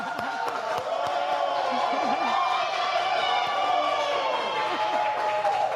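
A studio audience claps and cheers for a singer at an arts presentation and concert, a dense, steady wash of applause with whoops and voices mixed in, close and sustained throughout.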